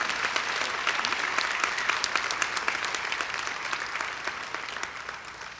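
Steady, full applause from a college convocation audience honoring award recipients, a dense continuous patter of many hands that holds at an even level throughout.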